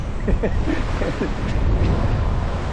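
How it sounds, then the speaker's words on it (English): Strong wind roars over open sea off Iceland's north coast on a solo sailing trip, with a steady, loud rush and surging gusts as waves wash beneath it close to the microphone. "the wind has come back from around that headland there"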